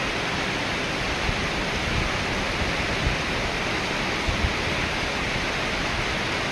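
Heavy rain driven by strong wind roars outside in a steady, dense wash of noise that holds constant throughout, with no voices over it.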